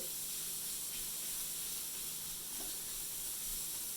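Frittata cooking in butter or oil in a pan on the stovetop, giving a soft, steady hiss of sizzling that stays faint and constant throughout.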